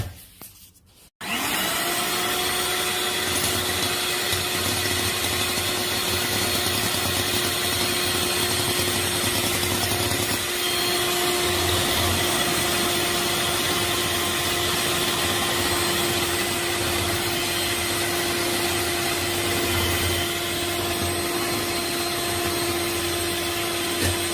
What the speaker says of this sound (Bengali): এই সাদা অংশটাকে আমি এখন ফোম করে নিব মেশিন দিয়ে গ্রেড মেশিন দিয়ে